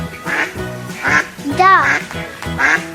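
Duck quacking on a farm in a sequence of short nasal calls, four or five clipped bursts at close range, set against a light musical background with no talking.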